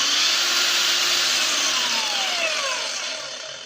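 A cordless Makita-battery angle grinder spinning at speed setting 3 gives a loud, steady high-pitched whine that holds throughout and eases off slightly toward the end, with no voices.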